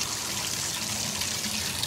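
Water runs steadily from a faucet in farm worker housing after the handle is swung to cold, a constant hissing gush with no voices over it.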